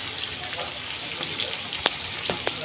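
Fried potatoes tipped into a sizzling pan of spiced chicken masala, a steady frying hiss with a few sharp clinks and stirring knocks near the end.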